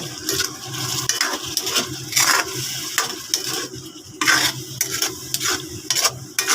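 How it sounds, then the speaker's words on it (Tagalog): Pork adobo with vinegar is stirred in a pan, producing repeated scraping and sloshing strokes in an irregular rhythm over a low bubbling sizzle, close and fairly loud, with no talking. "Alagyan na natin ng suka. Huli yung suka eh. Yun. Haluin maigi."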